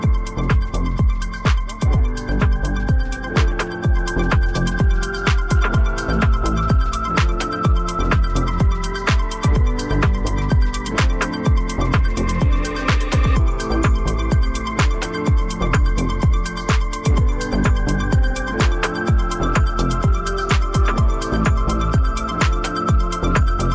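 An organic house track built in Ableton Live 12 plays with no master chain, a dense and continuous groove of steady kick and percussion hits under sustained tonal layers, loud and unbroken throughout.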